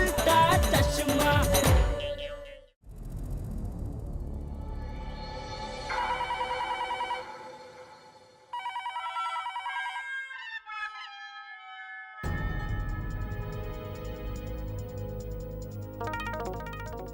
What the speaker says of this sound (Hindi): नहीं वो मैं घर पे फोन लगा रहा हूँ, घंटी भी बज रही है